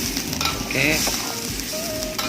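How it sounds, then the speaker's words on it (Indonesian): Chicken rica rica with added spices, pepper and sugar, sizzles loudly in a frying pan as a spoon stirs through it with scraping clatters; a brief spoken word comes over the frying. "setelah semua bumbu-bumbunya udah masuk, baru kita aduk aja sebentar guys"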